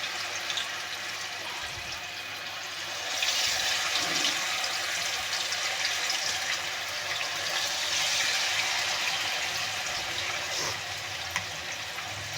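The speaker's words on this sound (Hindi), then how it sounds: "चलिए भाई बिस्मिल्लाह करके फ्राई करते हैं।" Chilli chicken frying in a pan, a steady broadband sizzle that runs throughout and swells louder partway through, with a few faint clinks over it and no speech.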